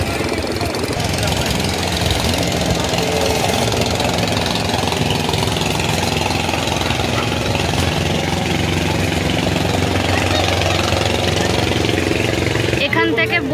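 A boat engine idles steadily and close by before departure at a riverside jetty near Omkareshwar, a constant low rumble under voices nearby throughout.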